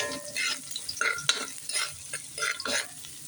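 Ginger sautéed in a frying pan for chicken tinola, a soft sizzle with rhythmic scraping strokes of a spatula, several pushes in a row, close but fairly quiet.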